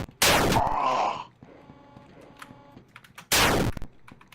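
Gunfire in a video game, shots piercing through walls: two sharp, loud blasts roughly three seconds apart, the first followed by a brief mechanical rattle, with quieter clicks and game sounds between.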